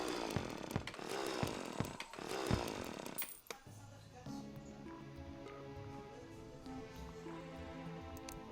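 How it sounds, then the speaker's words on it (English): A video game chainsaw revs in rough, buzzing bursts for a few seconds, then cuts off, leaving a quieter humming, tonal game background. "Fear the chainsaw."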